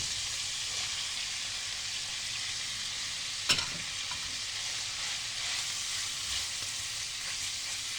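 Onions frying in a pan with beef and garlic for an Egyptian vegetable-and-meat tagine, a steady broadband sizzle throughout with one sharp clink midway, no talking.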